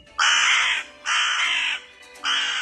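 A crow gives three loud, harsh caws, each drawn out for about half a second with short pauses between, close and clear, in the fairy tale of the crow and the fox.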